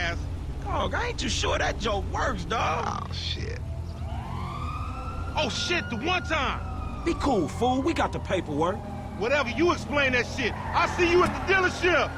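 Police sirens wail and yelp in a GTA 5 chase, sweeping up and down through the scene over constant game engine and traffic noise, with someone talking over them.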